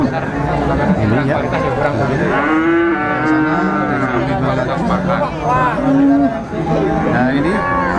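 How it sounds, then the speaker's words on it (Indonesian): A Javanese cow moos loudly several times while being weighed on a livestock scale, with long drawn calls over a busy background of people chattering. "Nah ini sapi Jawa mau ditimbang lagi. Sapi Jawa masuk timbangan."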